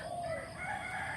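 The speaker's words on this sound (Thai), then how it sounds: "ป่ามาฟังเสียงไก่ขันที่บ้านนานะคะ" A rooster crows at a rural farmhouse in the fresh early morning. It is a single drawn-out crow of moderate loudness that rises over faint background ambience, with no talking.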